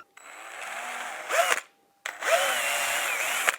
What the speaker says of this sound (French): Il nous faudra 4 pré-perçages par lame.